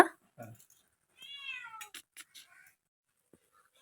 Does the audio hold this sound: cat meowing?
yes